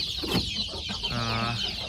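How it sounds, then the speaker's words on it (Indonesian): Free-range village chickens and a brood of about ten chicks cluck steadily at close range, with overlapping calls and peeps filling the whole stretch. "Nah, ini ada anak-anak ayamnya di sini beberapa ya."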